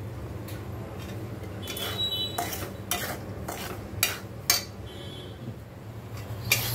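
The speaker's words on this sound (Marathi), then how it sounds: "इथे रवा भाजायला ठेवलेला आहे" Metal utensil scraping and stirring semolina roasting in a pan, with repeated sharp scrapes and clinks over a low steady kitchen hum; no talking.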